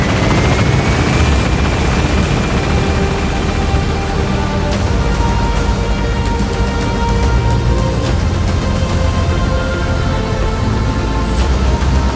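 Helicopter gaining altitude in the video game Metal Gear Solid 5, a loud, continuous rotor roar with a dense, even drone filling the whole stretch without pause, close and unbroken.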